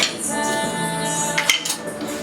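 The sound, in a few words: mashing potatoes with a utensil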